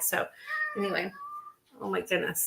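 A pet cat meows insistently for food indoors, a few drawn-out cries mixed in with someone talking nearby.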